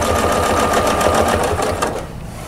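A sewing machine stitches steadily around the outer pattern of a table runner during ruler work quilting, a fast even mechanical chatter that runs close and loud before slowing and fading near the end.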